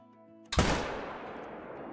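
A single 7mm rifle shot at a bighorn sheep about 440 yards away in the hunting game Call of the Wild: one sharp, loud crack that trails off in a long, fading rumble of echo.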